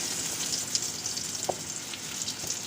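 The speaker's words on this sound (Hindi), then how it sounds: "देखिए जी, माशाल्लाह से ये फ्राई हो रहे हैं।" Food for a Ramadan snack fries in a pan over a low flame, giving a steady, even sizzle throughout with a few soft pops and one faint clink near the middle.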